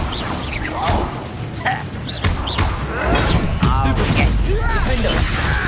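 The Confringo spell is cast repeatedly in Hogwarts Legacy, giving whooshing, sweeping magical bursts and thuds within a loud, crowded combat scene, with voices shouting over the effects.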